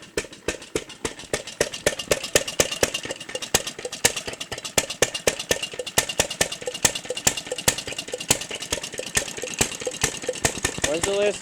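An old 90-year-old lawn mower engine, now fitted with aftermarket electric start, runs with a fast, steady, loud clatter of rapid regular firing pulses close by, and a voice is heard briefly near the end.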